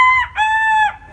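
A person imitates a rooster crowing with a loud, close, tonal call in two bursts: a short opening note, then a longer held cry that drops away at the end.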